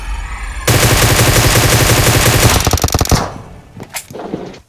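Automatic gunfire from the battle royale game BGMI, a dense sustained burst of rapid shots for about two seconds, then scattered single shots and fading impacts, loud and close.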